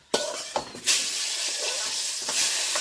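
Eggplant dropped into hot oil in a pan bursts into a loud, steady sizzle, with a few sharp clatters as the pieces go in, then continuous close frying hiss.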